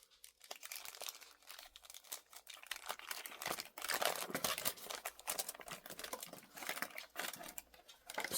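A sheet of thick, 18-inch-wide heavy-duty tinfoil is handled close up, crinkling and crackling continuously in busy, uneven rustles, with no one talking.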